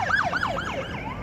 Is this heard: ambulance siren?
yes